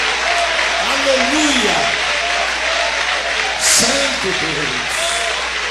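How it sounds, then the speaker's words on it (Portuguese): A church congregation claps steadily through the whole stretch, a dense wash of hands mixed with a voice calling out praise over it. "Eu quero ouvir palmas misturado com glória"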